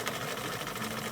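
A sewing machine runs continuously while stitching a homemade fabric face mask, a fast, even mechanical whir heard close up and fairly quietly, with no talking.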